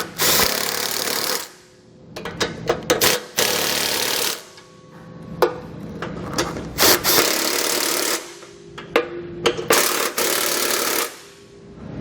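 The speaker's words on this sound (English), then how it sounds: "Now what we can do is tighten down the 4 bolts on each side, holding our bumper beam to the frame." Power tool tightening bumper beam bolts to the frame of a 2014 Ford, loud close rattling bursts of several seconds each, broken by short pauses and sharp clicks of handling.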